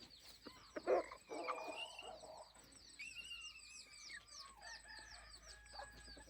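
A main breeding rooster crows once, near and fairly loud, followed by clucks and scattered chirps from other fowl, with the background quiet and no talking.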